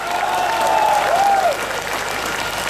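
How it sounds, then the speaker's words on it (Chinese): An audience at a party rally in a Johor coffee shop forum bursts into loud, dense, continuous applause for the party chairman, with a brief whistle-like tone riding over the crowd. "我们掌声鼓励给这个周主席好不好"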